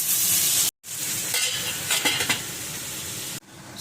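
Tomatoes cooking in a pan while being stirred for a butter chicken sauce, a close steady sizzle with scraping spoon strokes against the metal, broken by one brief silent gap.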